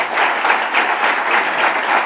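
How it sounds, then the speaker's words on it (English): A loud, continuous round of audience applause at a panel discussion marking a book release, with dense clapping swelling in gentle waves for the entire short stretch. "Please give them a very, very big round of applause"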